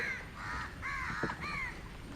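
Crows caw near the water on a backwater boat trip in Ernakulam, several clear, moderately close caws in quick succession over a soft outdoor background.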